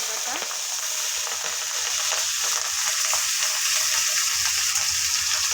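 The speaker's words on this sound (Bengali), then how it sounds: "এবার আমরা ভালো করে ভেজে নেব" A paste of onion, garlic and dried red chili masala fries in hot oil with a loud, continuous close sizzle, stirred in the pan without any talking.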